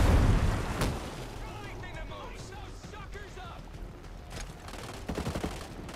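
Gunfire in the tactical shooter Ghost Recon Breakpoint, a dense crackle of shots and bursts that rolls on under game ambience, with a few sharper cracks standing out near the start and end.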